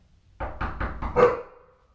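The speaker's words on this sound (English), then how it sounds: "she barks because that's her conditioned response" A dog at a home's front door lets out a quick series of about five barks, close and moderately loud, after a brief quiet start, with the last bark slightly stronger before fading.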